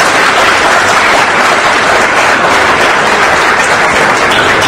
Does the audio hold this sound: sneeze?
no